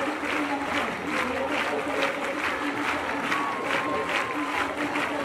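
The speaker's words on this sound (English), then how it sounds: "the sound of the applause had to remain above 80 decibels" Steady, dense crowd applause fills the clip at a constant loud level, a continuous wash of many hands clapping without pause.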